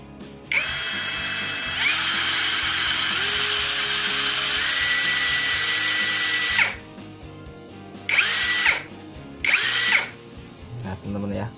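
A Nagawa NIC21K 320 Nm impact wrench, upgraded, runs at high RPM in loosening mode, giving a loud, steady high-pitched whine for several seconds that then cuts out, followed by two shorter bursts.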